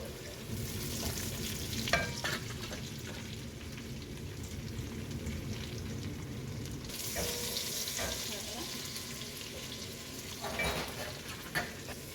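Raisins sizzle and fry in hot oil with deep maroon browned onions for carrot biryani, a steady close crackling hiss with occasional stirring clinks and no talk.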